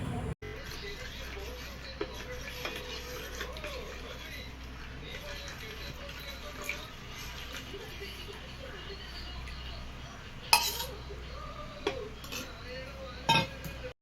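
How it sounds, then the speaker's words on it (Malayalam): A spoon clinks and scrapes against a pan while the remaining milk is stirred a little at a time into a homemade mango ice cream base, with soft, steady kitchen noise and a few sharper taps, under continuous talking. "ഇനി നമുക്ക് ബാക്കിയുള്ള പാല് കുറേശ്ശെയായിട്ട് ഒഴിച്ച് മിക്സ് ചെയ്ത് കൊടുക്കാം."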